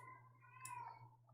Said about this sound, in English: Yes, you might hear a cat in the background.